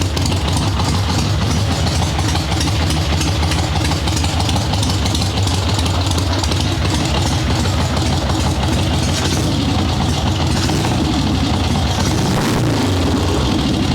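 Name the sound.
chopper motorcycle engine running with tuned Mikuni VM38 carburetor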